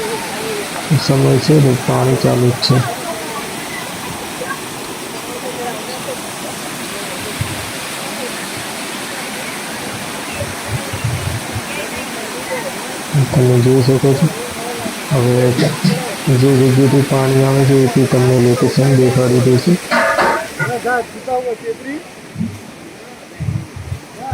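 River water rushes steadily at the Bajothiya Mahadev temple, a broad continuous roar close by, while people talk over it in several bursts.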